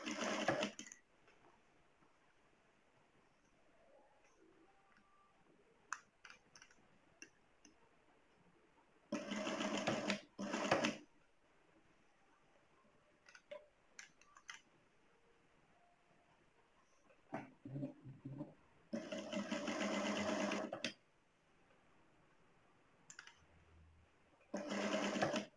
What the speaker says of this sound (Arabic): خيطوا الاكمام خيطهم بالطريقه